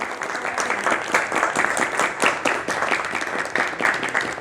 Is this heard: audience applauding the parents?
yes